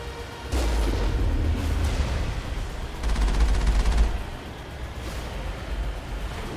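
Gunfire in a Mass Effect battle for the Citadel: bursts of rapid shots and heavy booms come in waves, loud and close, with no talk over them.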